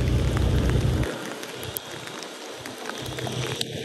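Rain falls on Tran Phu street in Nha Trang on a wet day, a steady broadband hiss of drops on pavement with a low rumble at the start that drops away, occasional brief spatters on top.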